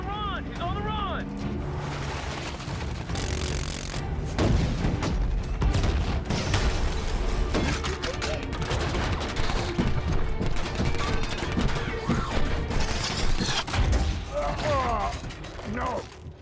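Gunfire and missile blasts from a battle scene in the film Transformers: Age of Extinction, with dense, loud explosions and mechanical clatter continuing under shouting voices.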